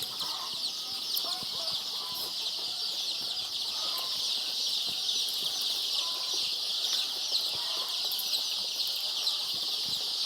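Many 14-day-old layer chicks cheep and cluck continuously in a busy, high-pitched chorus, with scattered rustling and movement throughout, no talking.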